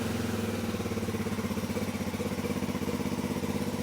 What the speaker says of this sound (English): I'm just gonna start it up a bit just to get the oil going round.